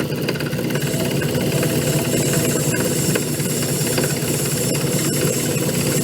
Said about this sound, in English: The vibration you hear is just the belt bouncing around a little because it's got a flat on it